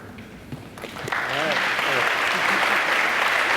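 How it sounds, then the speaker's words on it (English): Applause from the audience at a school's new-parent orientation swells into steady, dense clapping after a few spoken words at the start. "We usually don't get applause."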